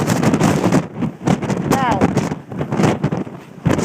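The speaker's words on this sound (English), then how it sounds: "As soon as you step out, like before, you can hear the wind." Strong wind gusting outdoors on the summit of Mount Washington amid rime ice, loud buffeting roars hitting the microphone in bursts, with people talking over it.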